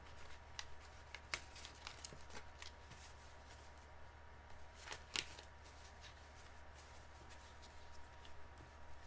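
Tarot cards shuffled by hand, quiet riffling and flicking in repeated bursts with small sharp snaps, close and alone over a low steady hum.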